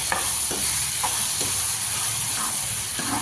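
Dried fish and tomato stirred in a frying pan for gongura curry, with a steady sizzle and hiss under soft periodic scrapes of the spoon, close and continuous without any talking.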